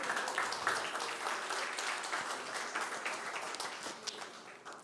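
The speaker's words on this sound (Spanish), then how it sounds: "Démosle un aplauso al Señor entonces." A church congregation applauds together in a steady, moderately loud wash of clapping that holds for several seconds without talk.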